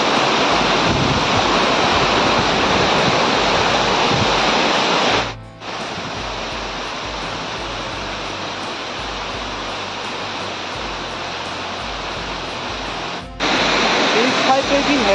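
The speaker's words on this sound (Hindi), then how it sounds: "इस साइड पे भी है पानी, इस तरह भी गिर रहा है।" Tyrshi Falls, a waterfall in Shillong, Meghalaya, roars loud and close as a steady broadband rush, with two brief dropouts breaking the continuous noise.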